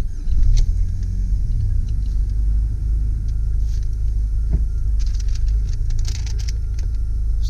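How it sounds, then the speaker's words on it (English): A 2000 Jeep Cherokee with a 2.5L four-cylinder, five-speed manual and 4WD at 125,000 miles turns over. There is a brief louder surge at the start, then a steady, close, low engine rumble with no talking. "Starts up with no problems"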